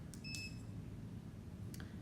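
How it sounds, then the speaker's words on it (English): A dog training collar gives a single short, high electronic beep near the start, over a low steady background hum, followed by faint clicks. "You'll know that your collar is on a mode 1 because it will beep 1 time when you turn it on"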